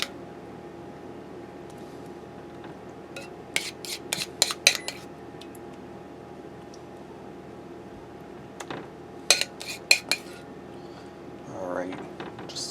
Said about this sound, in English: cream cheese mixture and we're going to spread that all over the bread